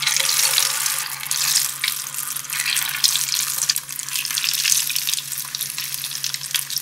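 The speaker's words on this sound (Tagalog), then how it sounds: "Pwede na nating ipirito yung repolyo." Cabbage patties frying in hot oil give a steady, close, dense sizzle and crackle that holds evenly throughout, with no voices.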